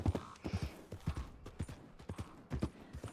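Horse hooves clip-clopping at a steady walking rhythm in Red Dead Online as the player rides an Arabian, with regular close, distinct hoof strikes and no talk.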